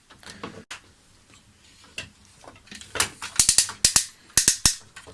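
An X Transbots Menasor toy robot is transformed to trailer mode, its plastic joints swiveling with soft handling rustles and then a burst of sharp ratcheting clicks, close and crisp, alone without talk.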